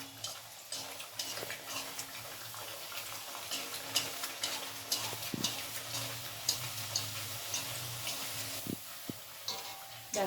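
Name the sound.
moong dal kochuri puri frying in hot white oil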